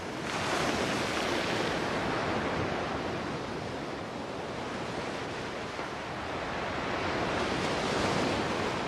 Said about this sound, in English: The waves broke on the shore.